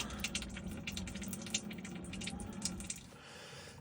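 Engine oil dribbling and splattering from a freshly removed oil filter on a Renault Master van, a steady close wet patter with soft squishy drips throughout.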